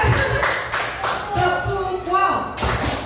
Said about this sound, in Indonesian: Kita beri tepuk wow dulu ya buat Ibu Hani.